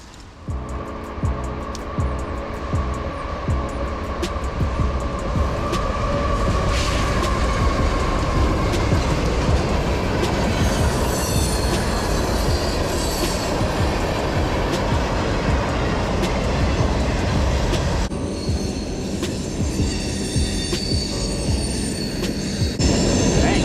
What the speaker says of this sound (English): Little train come through.